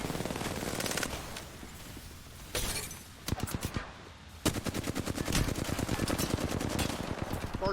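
Rapid bursts of video-game gunfire crackle in dense volleys, broken by a sharper blast near the middle and a sustained stretch of fast automatic shots toward the end, loud and continuous with no talking.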